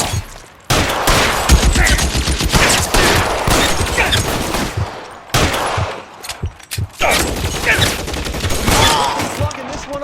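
Gunfire in the LA Noire video game: a loud, dense burst of shots and impacts that runs almost the whole time, broken by a brief lull near the middle, with dramatic game sound layered over it.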